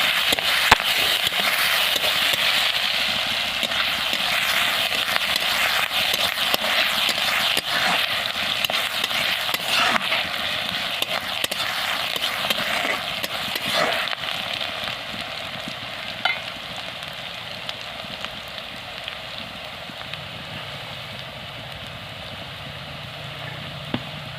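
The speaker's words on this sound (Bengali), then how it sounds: "চিনি গরম হয়ে গেছে, পেঁয়াজ কুচিগুলো দিয়ে দেবো।" Chopped onions sizzle in hot melted sugar in a pan while being stirred, a steady close crackling fry with occasional scrapes and no talk.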